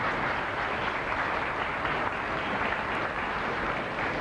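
Sustained applause from a graduation ceremony crowd clapping for graduating seniors, a dense, steady roar of many hands lasting several seconds with no talk over it.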